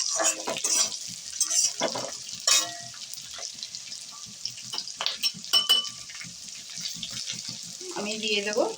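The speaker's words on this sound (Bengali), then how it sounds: "ক্যাপসিকামটা অত লাল লাল করে ভাজতে হবে না, একটু নাড়িয়ে চাড়িয়ে নিলে হবে।" Capsicum and green chillies stir-fried in a pan for chilli paneer gravy, a soft steady sizzle with scraping stirs and clatters throughout, near and moderately loud.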